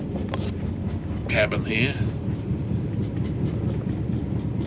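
Inside a passenger train sleeper cabin, a steady low rumble of the moving train with rattles and a breezy hiss carries on beneath someone talking.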